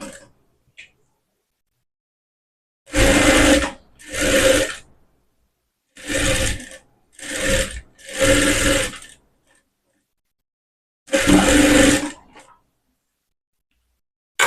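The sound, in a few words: sewing machine stitching a blouse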